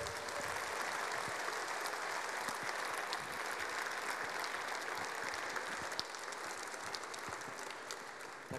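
An audience at a talk by traveller Miloslav Stingl gives steady applause for the Czech traveller Ruda Švaříček, an even wash of many hands clapping that holds at the same level throughout.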